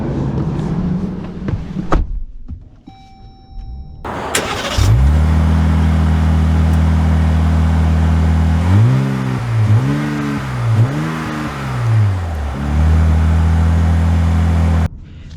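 The engine of a 2024 Jeep Wagoneer Rubicon cranks and starts, then settles into a loud, steady idle. It rises and falls through a few revs before pulling away, with no talking.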